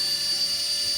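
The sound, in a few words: RC toy helicopter flying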